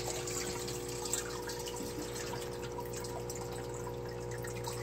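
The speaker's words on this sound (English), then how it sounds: "let it, the water drip down" Water drips and trickles from a fish tank filter as it is lifted out over a bucket, a soft steady splashing over a constant low pump hum, close by with no talking.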